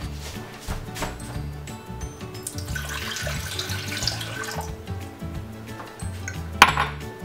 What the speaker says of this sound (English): First things first, we gotta put some water in this saucepan, apparently.